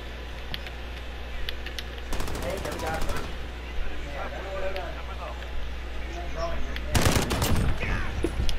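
Suppressed automatic gunfire in the Modern Warfare video game comes in two sharp rattling bursts, one early and one near the end, over a low steady hum, with voices talking between them.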